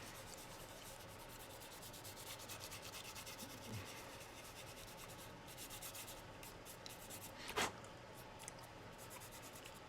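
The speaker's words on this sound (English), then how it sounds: "just rub your finger over it" A fingertip rubbing weathering powder over the surface of a 1/48 Hasegawa C.202 Folgore model aircraft, a soft, close, continuous scuffing with brief rhythmic strokes and a single sharper scrape, faint and without talk.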